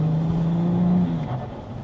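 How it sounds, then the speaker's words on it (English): Tuned BMW 535d diesel with roughly 590 hp on its turbos, running close with a steady engine drone that eases off into a brief fluttering turbo release near the end. No talk over it. "It's a proper turbo flutter."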